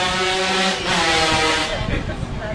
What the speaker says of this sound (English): You have local traffic passing with great noise and gusto, and Nikki and myself are very, very pleased